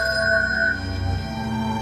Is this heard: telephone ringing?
yes